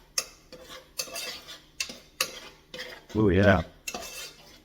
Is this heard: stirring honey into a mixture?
yes